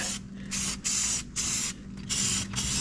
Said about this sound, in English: just some extra spray paint you got in the front ain't gonna hurt nothing